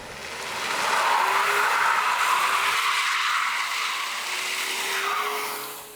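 2020 Cadillac CT4 with 237 horsepower and rear-wheel drive drifting, tires squealing in a sustained loud hiss with a faint engine tone underneath, continuing for several seconds.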